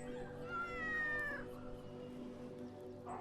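A cat gives one long, drawn-out meow in a horror game set in a kampung, close and clear over a steady low background hum, followed by a short faint sound at the end.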